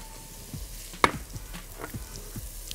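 Onion drops into melted butter and oil in a pan, bringing a soft, close sizzle with one sharp clatter and scattered light utensil knocks. There is no talking.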